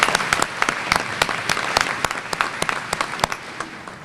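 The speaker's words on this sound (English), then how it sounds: "I think that deserves a round of applause" Audience applause fills a luncheon room at a peanut festival queen's event, a steady dense patter of many hands with sharp individual claps standing out, loud and close, holding evenly for several seconds.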